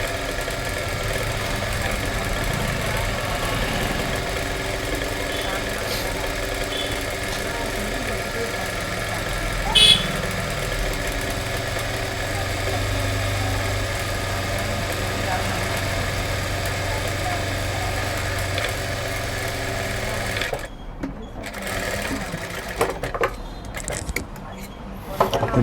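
Sewing machine stitching a seam on a thread-piped blouse, a steady continuous mechanical hum running for about twenty seconds before giving way to choppier, intermittent sounds near the end.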